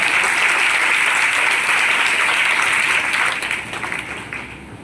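A church congregation in Bijapur, Chhattisgarh claps together in a dense, steady burst of applause that fades toward the end.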